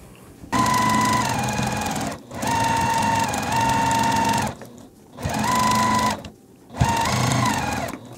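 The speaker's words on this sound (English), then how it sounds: "We'll sew 1/4 inch down this edge." A sewing machine stitches a quarter-inch seam on a weathervane quilt block, whirring steadily in three long loud runs separated by brief pauses, close by with no talking.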